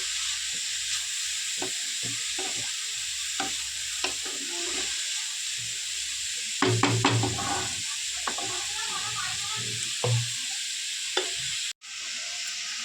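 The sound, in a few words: bottle gourd lightly frying in a pan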